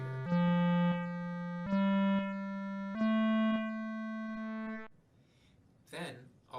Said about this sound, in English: I'm going to add a distortion effect and increase the cutoff of a low-pass filter, which will make our sound crunchier